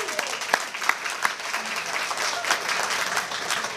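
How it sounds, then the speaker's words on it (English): An audience at a chamber of commerce lunch gives a moderate round of applause, with a few sharper individual claps standing out early, steady and mid-distance. "I think we should all give Alicia a round of applause"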